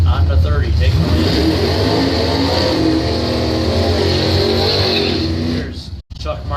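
An '84 Ford Mustang and other drag race cars roar down the strip toward the finish line, a loud, sustained engine drone that holds steady before cutting off abruptly near the end, with a track announcer talking throughout.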